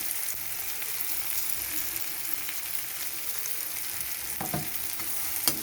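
Powdered spices for egg curry fry and get stirred in a pan: a steady hiss of hot oil with a few scraping clicks toward the end, close and even throughout, without speech.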